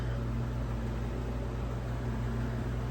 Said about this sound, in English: So it might be a little bit noisy up here. The furnace just turned on.